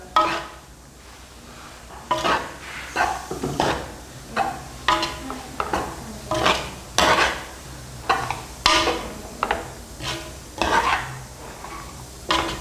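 A spoon stirs garlic through a dish in a pan, sending a series of rhythmic scraping strokes, roughly one per second, over a low sizzle, close by and with no voices.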